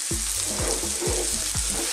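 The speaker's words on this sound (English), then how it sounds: "I sort of just want to sort of stir fry these a little bit." Broccoli florets and chunky zucchini stir-fry over high heat, a steady loud sizzle broken by four rhythmic scraping tosses of the pan.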